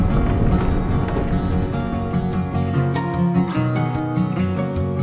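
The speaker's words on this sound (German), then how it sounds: "Schon sehr windig." Strong wind on the coast at Cádiz buffets the microphone in a steady loud roar with gusty rumble, continuous through the short stretch, with no clear talk.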